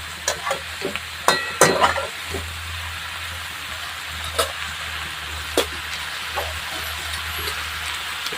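A wild forest vegetable is fried in a pan with a soft, even sizzle, and a few sharp stirring clatters stand out near the start before the sound settles into a quieter, steady hiss.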